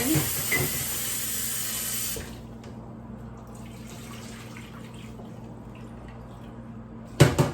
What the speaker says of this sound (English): Then wash one more time.